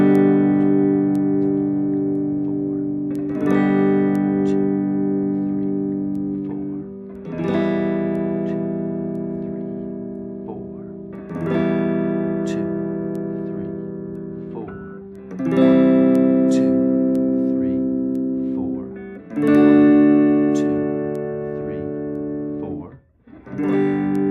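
Sustained guitar chords of a song ring out one after another, each held for several seconds with brief gaps between, a steady slow sequence of long strummed whole-note chords.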